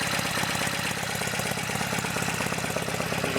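A Norton Commando motorcycle engine fitted with a Norvil ring gear starter and open primary gears, idling close by with a steady, rapid mechanical clatter and throb that runs evenly throughout without pause.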